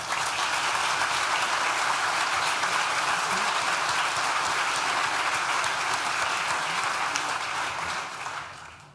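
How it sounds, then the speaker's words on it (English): A large graduation ceremony audience at Nottingham Trent University claps in a long, dense, sustained round of applause that stays level before tapering off at the close. "Please join me in thanking them with a well-deserved round of applause."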